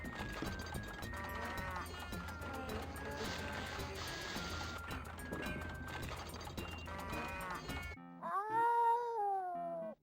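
A cartoonish cat meows and yowls in King's Quest VII, first under a dense music bed for about eight seconds, then alone as a few loud, close, drawn-out cries.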